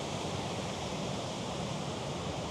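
A waterfall in Wales roars as a steady, dense rush of falling water, heard alone with no talk for a few seconds.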